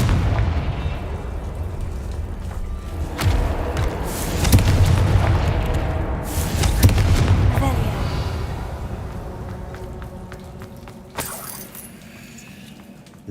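Confringo spell explosions in the video game Hogwarts Legacy, heavy rumbling booms and sharp cracks across the clip, swelling in the middle then thinning out into sparse impacts over game ambience.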